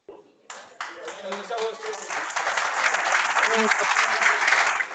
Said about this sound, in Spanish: No aplaudan, no aplaudan, aplaudan al Señor, no a mí. Aplausos.